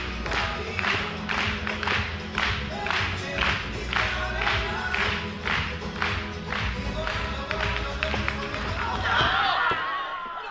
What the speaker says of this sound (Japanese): お客様大歓声大拍手